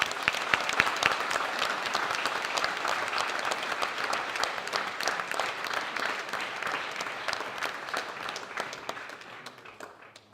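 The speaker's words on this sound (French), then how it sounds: "je vous demande d'applaudir Monsieur Patrick Jacques." A conference audience applauds as a man is called to his seat, with dense sustained clapping from many hands throughout that softens and tapers off in the final second.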